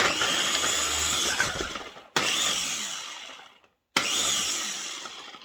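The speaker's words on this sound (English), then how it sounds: "Put the lid on, and we'll crush up these onions." A Ninja food processor chops onions in three loud motor bursts separated by short pauses, each a steady whirring roar that fades slightly before cutting off, with no voices.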